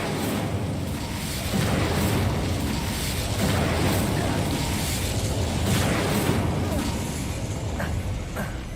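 The Incendio fire spell cast in Hogwarts Legacy: a sustained, loud rumbling roar with repeated booming surges, dense and continuous for several seconds amid game noise.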